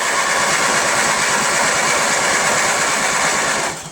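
Small gasoline engine of a Troy-Bilt Super Bronco or Craftsman LT1000 lawn tractor running close by, a loud, steady buzzing drone for several seconds before dropping off at the end, with no talk.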